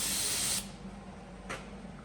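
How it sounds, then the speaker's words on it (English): A short, loud hiss of spray blown into a race car's turbo spins it, followed by quieter whirring and a second brief burst of spray, close up. "Sprayed into that turbo and it spins that one."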